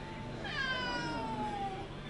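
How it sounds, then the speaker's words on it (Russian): A cat lets out one drawn-out meow with a falling pitch, clear and close against quiet background noise, and no one speaks. "Да ты говорящий кот, да еще и понимающий."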